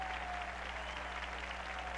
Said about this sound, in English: There's our applause.